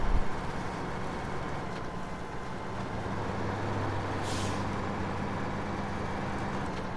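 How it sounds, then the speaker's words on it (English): A heavy truck engine drones steadily in the Snowrunner video game, with a short hiss of air brakes in the middle of the clip, loud and continuous without talk. "But a nice truck, really is."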